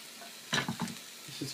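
Steak frying in a pan gives a steady, close sizzle, broken by a few louder scraping bursts from the pan.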